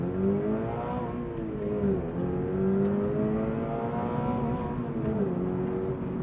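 A 2025 Subaru BRZ TS engine revs hard under acceleration, its harmonic note climbing, dipping with shifts and climbing again, loud and close with no talking.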